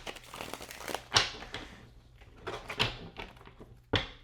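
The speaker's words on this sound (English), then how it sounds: "I'm having a hard time shuffling them cards." Tarot cards being shuffled by hand: a few sharp crisp riffles and flicks separated by softer papery rustling, close and clear, with no talking.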